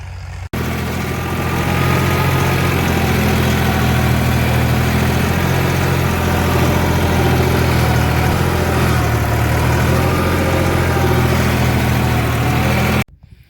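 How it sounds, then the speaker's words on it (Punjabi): A loud, heavy tractor engine straining hard under load runs steadily close by, droning and vibrating hard for several seconds before cutting off abruptly. "ਟਰੈਕਟਰ ਬਹੁਤ ਜ਼ਿਆਦਾ ਜ਼ੋਰ ਲਾ ਰਿਹਾ ਵਿਚਾਰਾ ਹੱਦ ਤੇ ਵੱਧ"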